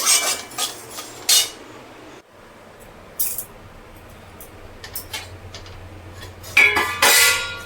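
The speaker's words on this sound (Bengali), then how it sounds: "তিলটা ভাজা হয়ে গেছে এবার আমি তিলটাকে ঢেলে নেব" Roasted sesame seeds tipped out of a pan for til laddu, giving several short bursts of dry rattling and metal clinks separated by quieter gaps, close and fairly loud, with no talk.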